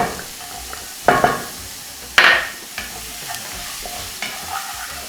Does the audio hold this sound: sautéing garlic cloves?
yes